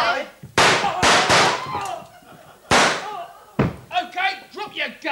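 Staged gunshot effects during a stage play, several loud sharp bangs in quick succession, a further shot a little later, then actors speaking.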